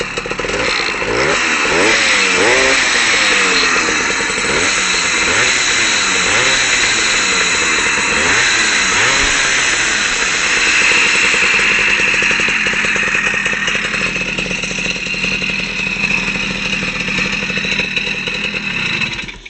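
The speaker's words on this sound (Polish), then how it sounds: "palimy sprzęta i pokażę jak się kręci na obroty" A two-stroke Ogar 200 motorcycle with a 60/4 cylinder and diffuser exhaust revs hard up close. Repeated throttle blips rise and fall at first, then it holds a high, raspy, buzzing rev before easing toward idle.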